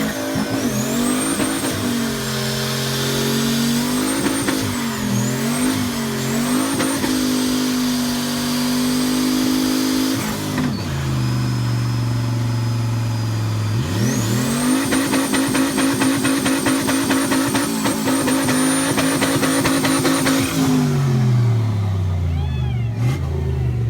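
A 1978 Trans Am burnout car with an LS1 engine and a single turbo, loud and close, revving hard, rising in pitch, and dropping as it shifts through gears, pausing briefly before another long climb.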